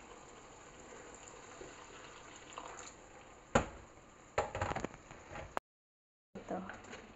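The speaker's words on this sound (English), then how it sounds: "Add hot water." Hot water poured into a pan for fish curry, a quiet background hiss broken by a few short splashing gushes of liquid, then a brief silent gap before more pouring.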